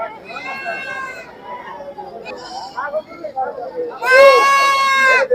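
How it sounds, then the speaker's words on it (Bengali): Goats bleating at a busy livestock market in Sirajganj, with several nasal, wavering cries close by, the loudest and longest near the end, over a crowd murmur and someone talking. "দেখছেন হাটে কিন্তু প্রচুর পরিমাণে ছাগল রয়েছে"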